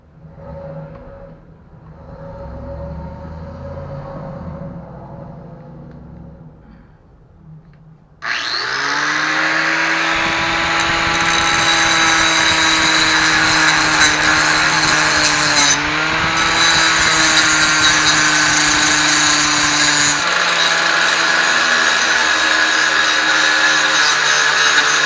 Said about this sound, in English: so grind off the excess and I'll see how it looks.